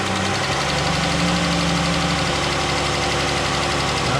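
A Chrysler 3.6-liter V6, just fitted with a new oil cooler, starts up and settles into a loud, steady idle close by, an even mechanical drone with a slight knocking texture and no voices.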